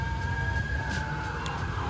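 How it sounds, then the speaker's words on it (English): Emergency vehicle sirens wail steadily in the background during an outdoor food stop in New England, a faint rising and falling tone over low rumbling traffic, with no talk. "I apologize for the sirens in the background."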